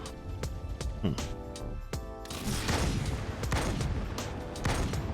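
Rapid gunfire from the Halo Online video game in gun game mode, with dense bursts of shots and booming impacts layered throughout, loud and close, with several sharp single shots early on.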